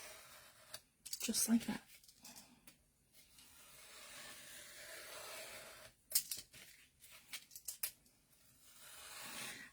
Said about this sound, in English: And then I'm going to cut right along this line here.